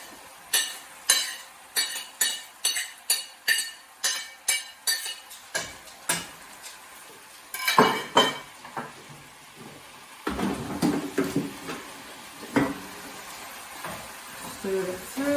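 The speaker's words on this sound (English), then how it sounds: "Stir it through." Spoon scraping and knocking through a big pot of bean chilli con carne, a steady run of close, regular clinks early on, then looser scraping and stirring knocks, with a voice speaking now and then.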